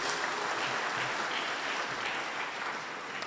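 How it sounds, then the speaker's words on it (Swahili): A church congregation claps together in steady, dense applause that fills the hall from start to finish, with no talk over it. "Pigieni Yesu makofi jameni."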